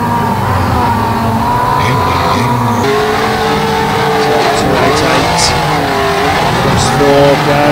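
Van banger racing at Kings Lynn, with engines roaring and revving, tyres squealing and scraping as vans bump and pile into each other, under continuous commentary over a loudspeaker.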